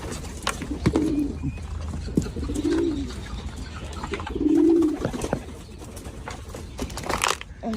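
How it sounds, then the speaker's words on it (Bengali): Pigeons at a family pigeon farm coo in repeated low throaty phrases, close and fairly loud, with scattered wing flutters, scratching and small bird chirps around them. "এটা আমার আব্বুর কবুতরের ফার্ম।"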